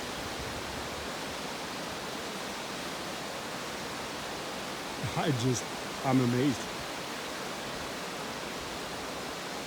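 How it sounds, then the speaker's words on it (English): Tumalo Falls pours in a snowy winter setting, a constant, even rushing roar heard from a distance, with a person briefly speaking twice partway through over the steady water noise. "How water just falling can be so beautiful."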